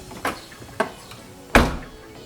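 The trunk lid of a Mini Cooper is lowered and shut, with two light clicks followed by a firmer latching thunk, close and clear.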